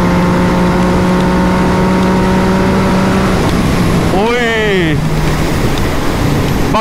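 A Yamaha MT-09 motorcycle pulls in sixth gear, its steady, close engine drone buried under heavy wind rush, with a brief warbling tone about two-thirds through.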